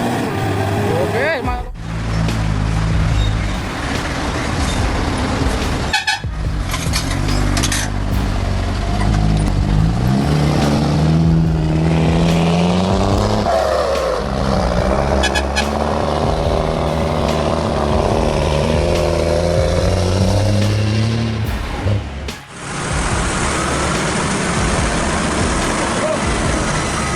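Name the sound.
roaring engines of off-road trucks in mud rescue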